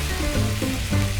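Axis deer meat sears in a hot pan under a bacon press, giving a loud, steady, close sizzle and crackle throughout with no talking.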